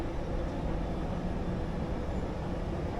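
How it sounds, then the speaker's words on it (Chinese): Metro train arriving at a station in Malaysia, a steady low rumble and rolling hum heard close by, with no talk. "刚好地铁来了。"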